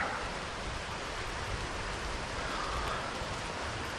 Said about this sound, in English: it's raining pretty hard. It's lightning all around me.